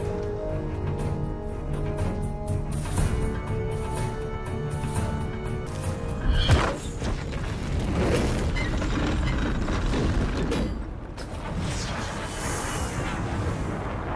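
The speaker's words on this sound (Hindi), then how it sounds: "आग का गोला, मिसाइल लॉन्च किया गया जैसे" A fireball launched like a missile in a war drama about Alauddin and Mewar, heard as a dramatic soundtrack rumble with a sharp whooshing impact midway, deep booming texture and layered effects swelling then settling.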